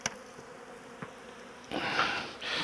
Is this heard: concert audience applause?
no